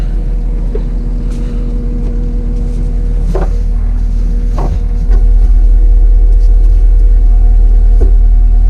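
A Takeuchi TL8R2 compact track loader drives along with a steady low engine rumble and hum, a few faint clunks over it and the drone growing slightly louder partway through.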